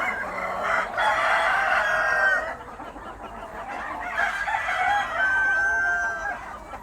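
Native Philippine chickens of the Banaba, Paraoakan and Joloano breeds crow, two long drawn-out crows in succession from fairly close, with clucking from other birds around them.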